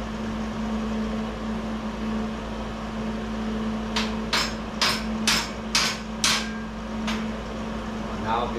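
Hammer taps on a shim in a sheet metal brake being restored: about seven sharp metallic strikes in an uneven rhythm, close and moderately loud over a steady background hum.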